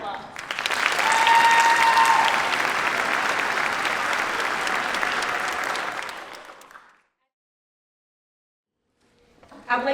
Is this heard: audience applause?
yes